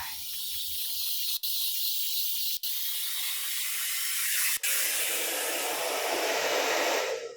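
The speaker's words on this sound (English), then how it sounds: "we're going to blow dry it on medium heat until the hair is completely dry" A hair dryer on medium heat blow drying hair: a loud, steady airy whoosh that is briefly cut off three times and then fades out at the end.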